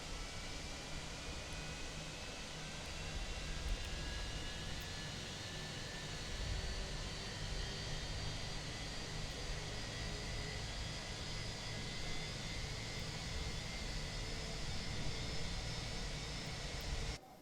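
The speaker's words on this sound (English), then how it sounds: "And we are starting up the second engine as well now." An airliner's second jet engine spools up in Microsoft Flight Simulator 2020, a steady broadband whine and roar with rising tonal lines that holds evenly for the whole stretch, with no talking.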